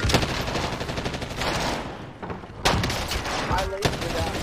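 Bursts of Type 63 rifle fire from a scoped loadout in the video game Warzone, rapid cracking shots running through most of the stretch with a brief lull midway, over dense game noise.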